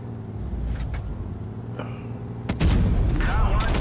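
In the tank game World of Tanks Blitz, a shot rings off armor with a sharp metallic boom and engine rumble, while a commentator talks over the action throughout.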